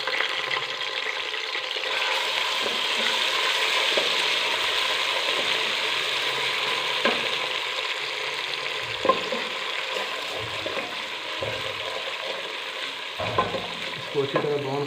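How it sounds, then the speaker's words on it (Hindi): Onions browning in a pan with ginger garlic paste added for a desi karhi pakora, a steady close sizzle and crackle throughout with occasional clinks and scrapes of stirring. "प्याज ब्राउन होते साथ ही हम इसमें अदरक लहसुन का पेस्ट डालेंगे।"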